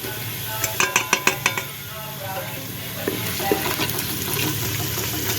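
Spices sizzle in a pan of hot oil while being stirred, with a sharp run of spoon clicks against the pan at first and then a steady hissing fry with occasional scrapes.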